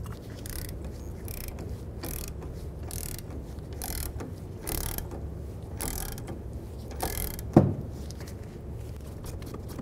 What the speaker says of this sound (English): Just tighten it down so you see it seat itself right into that knuckle.